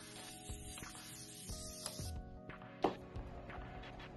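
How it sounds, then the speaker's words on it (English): A makeup setting spray is pumped during an everyday makeup routine, giving soft airy hisses with a small click, faint and close against background noise, with no talk. "Okay, and then another spray."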